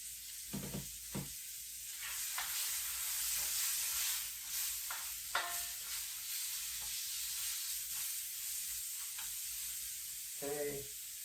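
Vegetables including snap peas and baby bok choy dry frying in a pan for ramen, with a steady close sizzle broken by occasional stirring scrapes and clatters, no one talking.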